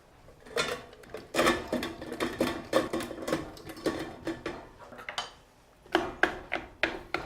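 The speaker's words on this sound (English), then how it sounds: "we're going to put the butter in with the potatoes while we rice them" Boiled potatoes being riced with butter, a run of clacking, squeezing metal strokes in uneven bursts close by, pausing briefly before another quick series of clanks.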